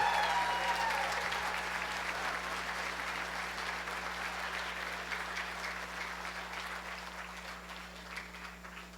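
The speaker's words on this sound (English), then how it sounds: "So give them a round of applause." Audience at a 2022 D14 off-road awards banquet applauds the lady scorers, a steady wash of clapping across the room that starts strong and slowly thins out.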